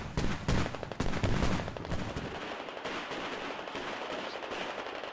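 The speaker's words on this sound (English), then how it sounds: "TT BTR is providing excellent covering fire for this fob" Sustained covering fire from a BTR armored vehicle in the military shooter Squad: heavy automatic bursts, rapid and rhythmic at first, continuing as steady distant gunfire with no talk over it.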